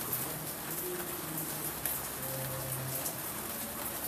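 Steady rain falls throughout as a dense, even hiss of drops on a surface, with faint tonal sounds beneath and no speech.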